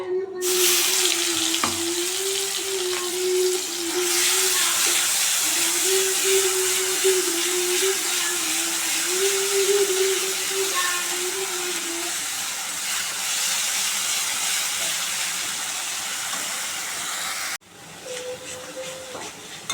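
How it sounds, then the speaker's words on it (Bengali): Spice paste for egg biryani sizzles in hot oil in a kadai as a loud, steady hiss that runs for a long stretch and then cuts off abruptly near the end. "কড়াইতে তেল গরম হয়ে গেছে, এখানে যে মশলাটা বানিয়েছিলাম পুরো মশলাটা দিয়ে দেবো তেলে"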